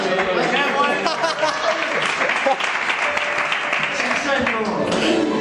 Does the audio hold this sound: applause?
yes